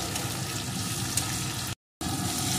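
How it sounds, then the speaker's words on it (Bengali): Chopped tomato and green chili fry with prawns in a pan, giving a dense, steady sizzle that holds loud and even, broken by one brief gap of silence. "এখন এগুলোকেও একটু সুন্দর করে ভেজে নেব"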